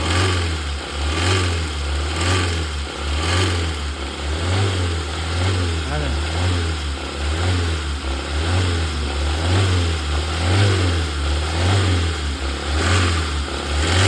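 A nearby 2021 Hyundai Sonata DN8 2.5-litre engine idles with a rhythmic low pulsing and a persistent rattly buzz from the intake manifold flaps, steady for the whole stretch.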